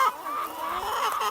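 Hens in a mobile chicken house holding about 500 birds cluck steadily and fairly close, a dense overlapping chorus of fowl calls that carries through the short stretch with no talk.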